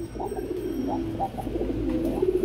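Pigeons at a bird market coo repeatedly close by, soft throaty calls overlapping in a steady murmur against a low background hum.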